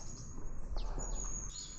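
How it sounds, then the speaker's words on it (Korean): Birds chirp and tweet in short calls over the steady rush of a mountain stream in a valley, the calls fairly faint against the water. "새소리 좋네."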